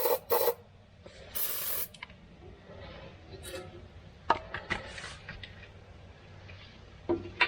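Short aerosol bursts of Rust Check sprayed where rusty skid guard bolts go in on a Chevrolet Colorado, two or three quick hisses among scattered taps and clicks.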